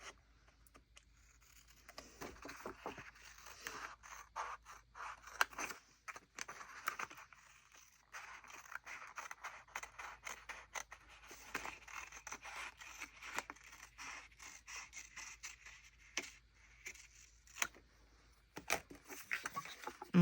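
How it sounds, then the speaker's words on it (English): Scissors trimming paper for a handmade Christmas card: quiet, close snips and papery rustles come in irregular bursts across the stretch, with occasional sharper clicks and no talk. "So I'll use scissors to trim that"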